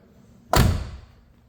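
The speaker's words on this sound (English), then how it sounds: "Passenger side door closes just like the driver's side." A single solid thud of the passenger door of a 1972 Pontiac Grand Prix shutting, loud and close, with a short fading resonance afterward.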